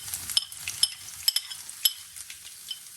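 Mustard seeds and garlic sizzle softly in hot oil for a vegetable dish, with sharp spitting pops and small clinks breaking over a faint, hissing background.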